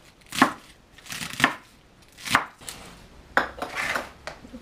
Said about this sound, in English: you can chop the rest of the leaves